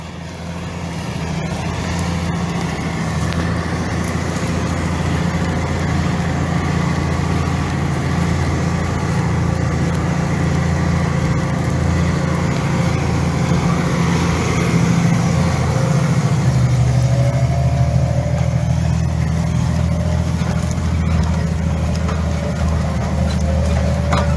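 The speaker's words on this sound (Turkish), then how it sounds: "Önden görünümü traktörümüzün." A Massey Ferguson 8S.205 tractor runs nearby for over twenty seconds with a loud, steady low engine drone and a slight change in pitch midway. No voices are heard.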